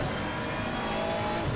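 Race car engine in a racing video game, a McLaren Artura on the Donington Park circuit, droning steadily and close up without a break, with no talk over it.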